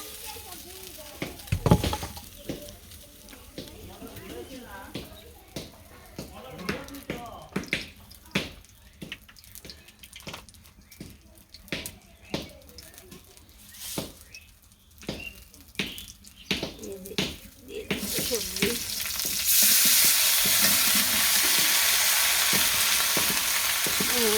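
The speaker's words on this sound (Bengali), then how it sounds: "মাছের ভাজা নিচে নামিয়ে নিলাম উপর ফুলকপি ভাজা ভেজে নিয়ে" Cauliflower sizzles and crackles in hot oil with repeated stirring clatters and scrapes; the frying hiss swells louder toward the end. A voice speaks briefly.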